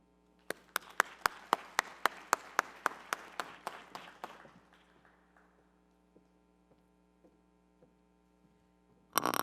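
At a petroleum conference, a run of evenly spaced, sharp claps from the audience slows and fades away, leaving a steady electrical hum, then a single loud clap at the very end.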